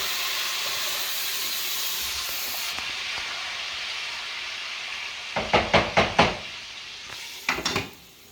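Wine and pork grease mixture poured into a hot pan for pork belly carbonara, a loud steady hiss that steps up into a burst of crackling sizzle, then several louder sputtering pops near the end.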